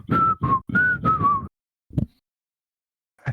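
Eerie sound-effect whistling during a tabletop role-play session: four close, clear whistled phrases, each one slightly gliding, followed by two brief breathy bursts separated by silence.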